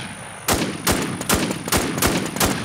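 Loud gunfire in a shooter video game, with M107 rifle shots cracking in a rapid series of about seven evenly spaced bursts.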